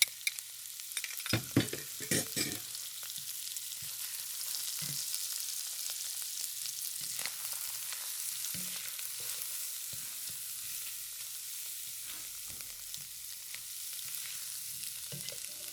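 Seafood fries in oil in a wok for Chinese seafood curry fried rice, a steady close sizzle running throughout with a few louder stirring scrapes and clatters near the start.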